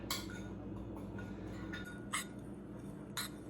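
Faint, intermittent clinks of a spoon against a bowl as cinnamon is stirred into a dry pumpkin protein cookie dough mix, with a few sharper taps standing out.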